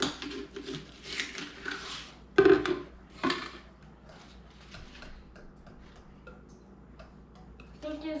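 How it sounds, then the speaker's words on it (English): A whisk clatters in a bowl of funnel cake batter in a home kitchen, with quick ticking strokes in bursts and a couple of louder knocks against the bowl, close by. "Keep whisking."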